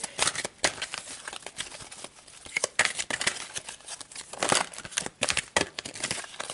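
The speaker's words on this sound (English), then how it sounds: "these are big cards, so it's hard sometimes to shuffle" Repeated riffling and slapping of large tarot cards being shuffled, quick uneven bursts close by with brief pauses between.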